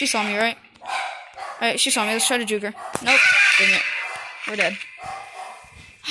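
Dogs bark and yip indoors in short, sharp bursts scattered through the clip, mixed in with a person talking steadily over a video game.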